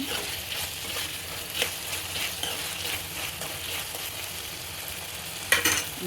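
Tomatoes cook in a pan over a high flame for a potato tomato curry, with a continuous close sizzle and occasional stirring knocks, ending in a brief sharper clatter, and no one speaking.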